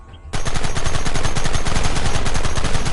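Rapid automatic gunfire in the Red Dead Redemption western video game, a loud sustained burst of overlapping shots that starts abruptly after a brief quiet moment and continues without pause.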